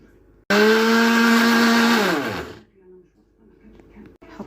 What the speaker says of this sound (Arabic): وهنضرب في الخلاط